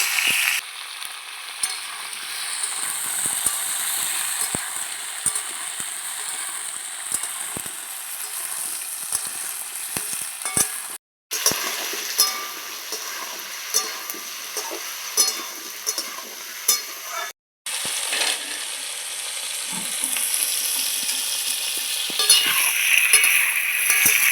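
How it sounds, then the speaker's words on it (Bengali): Chopped vegetables for a vegetarian pumpkin chakka hiss loudly in hot oil tempered with dried red chilli, nigella seeds and a pinch of asafoetida, a dense, steady crackling sizzle that breaks off twice for an instant, with no talking. "তেল গরম হয়ে গেছে শুকনো লঙ্কা ফোড়ন দিয়ে দিচ্ছি কালো জিরে সামান্য একটু হিং কেটে রাখা সবজিগুলো দিয়ে দিচ্ছি"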